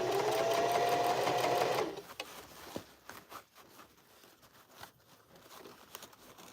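A sewing machine runs a steady fast stitching burst along a bucket hat seam, then stops, leaving faint fabric handling and small rustles close by.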